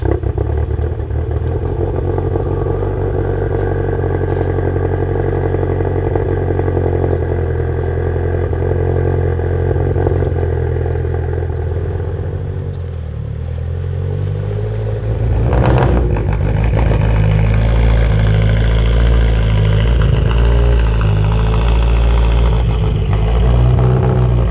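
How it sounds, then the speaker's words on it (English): Mitsubishi Evo X with a new aftermarket exhaust rolling up a driveway, its engine a steady low rumble that dips briefly and then swells louder as the car draws near, with no talk. "An Evo 10 coming up the driveway."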